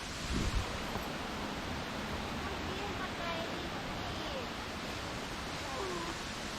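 Krating Waterfall in Chanthaburi, a broad steady hiss of rushing water heard from a trail alongside it, continuous and fairly close, with no other sound standing out.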